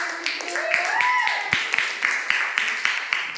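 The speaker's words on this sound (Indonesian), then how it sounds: "sekarang beri tepuk tangan dulu untuk kelompok 5" After a brief spoken line, students in a classroom start clapping for the group that just presented, scattered claps settling into a fairly steady rhythm with voices beneath.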